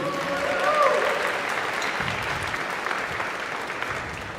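Guests at the Christ Church benefit gala applaud an ensemble, a soft, spread-out clapping in a large room, with a faint voice or instrument note early on before the clapping settles and tapers.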